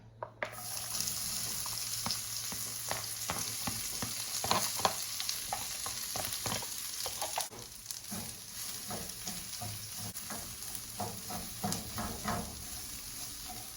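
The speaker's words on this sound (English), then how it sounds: "We are just going to put it into our hot skillet and start cooking it." Walnut meat cooking in a hot skillet, with a steady loud sizzle and repeated scraping stirs throughout and a brief bump near the start.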